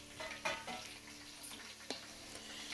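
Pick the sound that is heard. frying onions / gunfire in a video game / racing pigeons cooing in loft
frying onions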